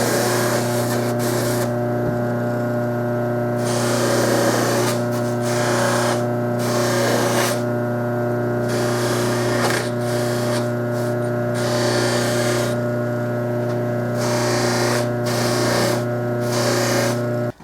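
A bench buffing wheel polishes small brass trumpet parts stripped of lacquer, giving a steady loud motor whine with a strong hum and broadband hiss, intensity surging and easing as parts are pressed against the wheel, with no talk.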